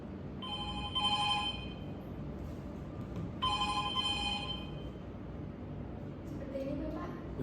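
A telephone bell rings in two bursts over steady background noise, set in a vocational school lesson on answering phone calls.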